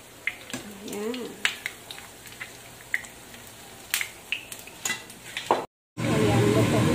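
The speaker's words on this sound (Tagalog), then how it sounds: "naprito na natin yan" Vegetables frying and being stirred in a pan for vegetarian noodles, with repeated scraping clicks of the utensil over steady sizzling, then a brief cut and a louder, continuous sizzle at the end.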